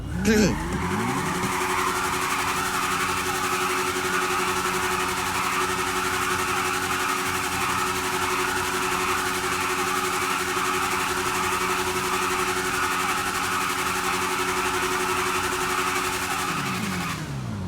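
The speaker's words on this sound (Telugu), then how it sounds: "ఆ ఎగ్జాస్ట్ సౌండ్ వింటే గూస్ బంప్స్ వస్తున్నాయి ఫ్రెండ్స్" A modified BMW S1000RR motorcycle exhaust in the GTA 5 video game holds a loud, steady, high droning note throughout, with a brief revving rise at the start and a falling note at the end.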